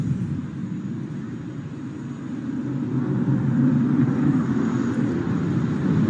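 Aircraft flying an aerial salute display, a steady distant engine drone that swells gradually louder over several seconds, with no talk.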